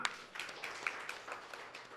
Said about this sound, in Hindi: हिम्मत के लिए तालियां।